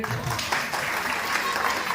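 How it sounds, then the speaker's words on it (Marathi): An audience at an anchored entertainment event in Chinchwad, Pune claps steadily throughout in a dense, even burst of applause, with a voice faintly mixed in. "म्हणजे आपण टाळ्या वाजवू"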